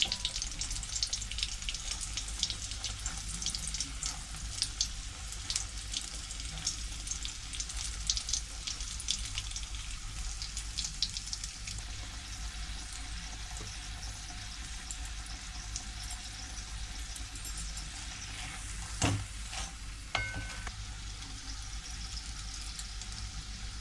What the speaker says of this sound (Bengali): মিডিয়াম ফ্লেমে রেখে বেগুনগুলোকে ভাজতে হবে তবে ভাজাটা ভালো হবে